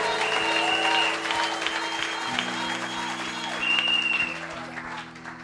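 A church congregation applauds steadily and loudly throughout, with sustained keyboard or organ tones held underneath and a brief swell of clapping near the end.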